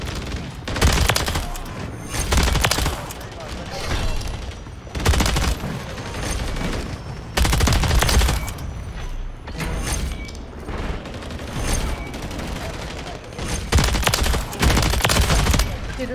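Automatic weapon fire in the shooter game Call of Duty: Modern Warfare III on the Shipment map, repeated loud bursts and sustained volleys with short gaps, close and punchy, no talk over it.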